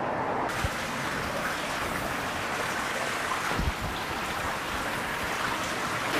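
A cave stream in the Kristallhöhle Kobelwald runs high with water, a steady, dense rushing roar that fills the space without pause, with no voices.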